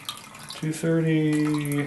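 Water pours steadily into a bowl on a kitchen scale while measuring it for a sourdough starter, a near, rising gurgling stream with a short pause at first, under a spoken number.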